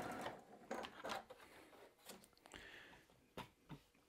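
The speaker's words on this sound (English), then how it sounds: "and keep on sewing." Sewing machine stitching cotton quilt pieces, heard as short mechanical bursts of running stitches, stopping and starting several times, close and moderately quiet with no talking.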